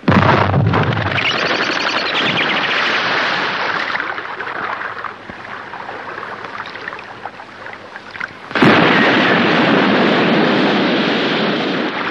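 A sharp blast opens into a long rushing roar that slowly fades, then a second abrupt boom brings another loud roaring burst, from explosions and weapon fire in a science-fiction TV series.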